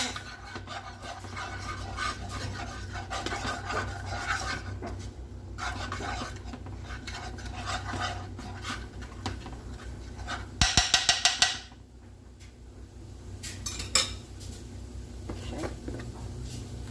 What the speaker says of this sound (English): let that stir fry for a little bit